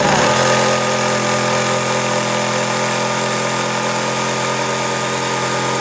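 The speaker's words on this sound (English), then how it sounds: "Cutting out these little notches, and that's going to make it easier for the saw blade to move through that curve" A power saw runs continuously while cutting relief notches into a butcher block countertop for a rounded corner, a loud, steady, buzzing drone heard close up and without talk.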